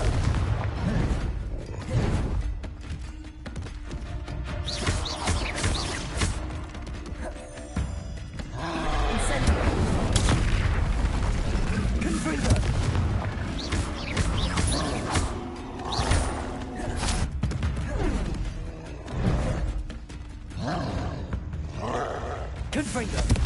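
Fiery Confringo blasting-spell explosions from the Hogwarts Legacy video game, dense and continuous, with heavy booming rumbles and crackling bursts layered over a constant roaring din.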